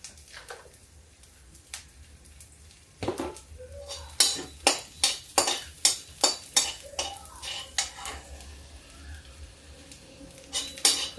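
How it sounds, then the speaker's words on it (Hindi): Garlic and green chili stir-fry in a pan with little oil: a spoon scrapes and knocks against the metal in a quick run of sharp clinks over a faint sizzle, close by. "अब इसको लहसुन मिर्चा को हम भूनते हैं।"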